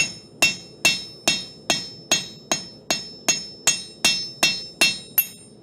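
A blacksmith's hammer beats hot metal on an anvil in a steady run of about thirteen sharp, ringing strikes roughly every half second, loud and close, with no talking.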